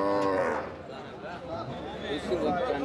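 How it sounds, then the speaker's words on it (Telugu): Low lowing from buffalo bulls in a busy livestock market, with people talking and chattering throughout. "ఇక్కడ దున్నపోతులు కూడా వచ్చినాయి"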